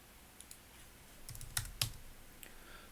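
Several faint key presses on a computer keyboard during an After Effects editing session, a few isolated soft clicks with two slightly louder taps near the middle, alone over a quiet room background.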